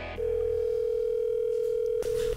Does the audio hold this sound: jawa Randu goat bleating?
no